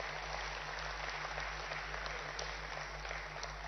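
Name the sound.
audience applause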